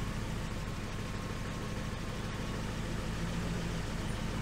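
A steady car engine on a Triumph Stag runs at a constant idle-like drone with revs rising during Stromberg CD 175 carburettor tuning, low and continuous throughout, with no voices.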